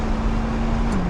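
A 2023 Chevrolet Corvette C8 engine hums steadily at a constant pitch from inside the cabin, then the tone drops slightly near the end as a manual paddle shift changes gear.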